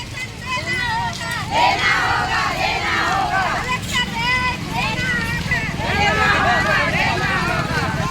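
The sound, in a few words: protesting crowd shouting slogans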